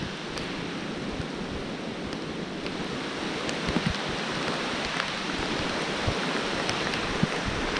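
Rain falls steadily outdoors in a continuous soft roar, with scattered nearby drips and taps and a slight gusty rumble underneath, no voices.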